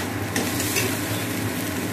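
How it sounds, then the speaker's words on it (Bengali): Flat beans frying in oil with black cumin in a pan, a steady close sizzle with a couple of brief stirring scrapes, no voices. "আমি ভেজে নিচ্ছি কালো জিরে দিয়ে"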